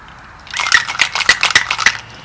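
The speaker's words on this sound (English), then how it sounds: "And we're going to give that a shake." A cocktail shaker filled with ice, brandy, Cointreau and bitters is shaken hard, giving about six sharp rhythmic rattling clacks of ice against metal, close and loud.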